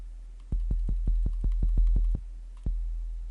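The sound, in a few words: sub kick drum in FL Studio track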